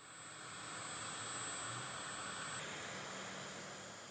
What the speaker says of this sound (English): Look, the UPS cargo is out. It accelerates, decelerates, and turns around.